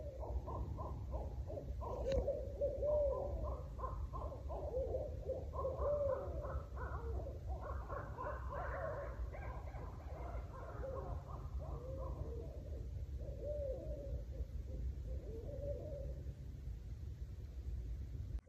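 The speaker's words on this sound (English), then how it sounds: "Quite a lot of owls out." Repeated owl hoots sound steadily through a low, constant rumble, a series of soft calls carrying across a quiet winter night at a campsite with no voices.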